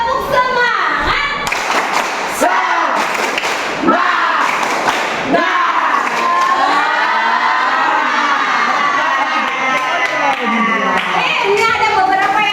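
Schoolchildren in a group clap and shout together in a rhythmic spirit chant, loud and continuous, with crowd voices and cheering throughout.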